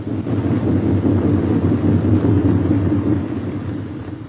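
Low, rumbling drone of a B-17 Flying Fortress bomber coming in to land with its left inboard engine dead, a steady heavy engine roar with wind noise, swelling slightly and then easing off toward the end.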